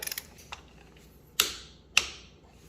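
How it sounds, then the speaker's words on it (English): A few quick ratcheting clicks followed by two sharp metallic snaps as a torque wrench with a 19mm socket tightens the rear axle bolt on a Honda CT125 Trail motorcycle, close and quiet. "go ahead and torque this 19mm socket to 44 foot-pounds of torque"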